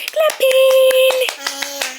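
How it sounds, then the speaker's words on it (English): An eight-month-old baby at home slaps small hands together in a few soft, irregular claps, heard under a sustained, sing-song voice. "Are you gonna clap for me?"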